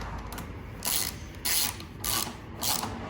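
A ratchet tightening nuts on a Predator 212 small engine, giving four short bursts of quick clicking spaced about half a second apart, close and clear with no talk.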